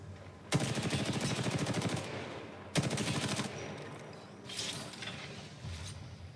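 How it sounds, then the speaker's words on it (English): Automatic weapon fire from the Apex Legends battle royale game, two long rapid bursts followed by scattered mechanical clicks and impacts, loud and with no talk over it. "Ooh, Paul missed a couple shots."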